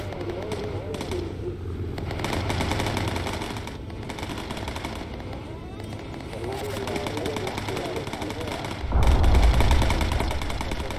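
Machine gun fire from a bomber's turrets during a Bomber Crew video game mission, a steady rattling stream running under a voice, with a louder burst near the end.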